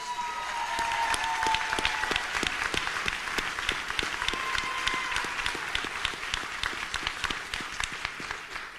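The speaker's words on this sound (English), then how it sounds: "Can you stand up and let's just give her a round of applause?" An audience at a city's State of the City address applauds, dense sustained clapping from many hands filling the room.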